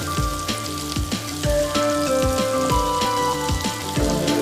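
Chicken popcorn frying in a pan of hot oil, a dense, steady bubbling sizzle with crackly pops, close and even throughout, accompanied by faint musical tones in the background and no talk.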